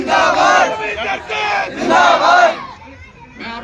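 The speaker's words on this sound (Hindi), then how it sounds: "एक जोरदार ताली अपने लिए बजाइए" A crowd at an outdoor Congress rally in Haldwani cheers and shouts loudly in repeated surges, with clapping mixed into the roar and a short lull before a final burst.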